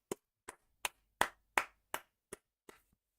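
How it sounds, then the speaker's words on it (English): Eight sharp, evenly spaced hand claps from a single person, close and crisp, each a short isolated burst with silence between, answering a call for a round of applause on a casual live stream. "Round of applause, please"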